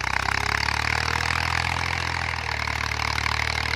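A 1992 Massey Ferguson 240 tractor fitted with an aftermarket silencer runs at a steady idle, its diesel engine giving a continuous, even rumble close by with no talk.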